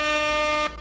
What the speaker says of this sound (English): I need to get the little air horn going